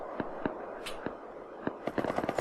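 Sharp cracking gunshots aimed at the player in the survival game Rust, several isolated reports early on, then a quicker cluster of shots near the end, loud and close.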